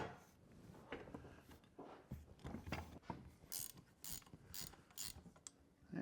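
A repaired farm jack ratchets as it climbs, giving a steady run of close, gritty mechanical clicks and clanks with a few sharper bright snaps toward the end.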